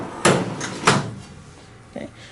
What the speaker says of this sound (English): I'm going to open up my ink bay